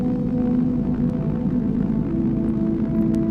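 A SynthMaster 2 synth patch called Boil Room drones on as a low, steady hum with layered held tones and a faint throbbing, with no voices.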